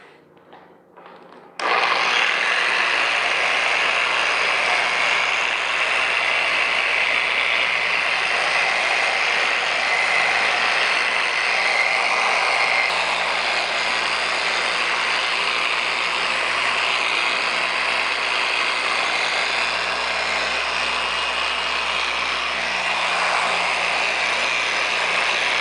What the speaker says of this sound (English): I have my DA polisher on 2 right now, low speed.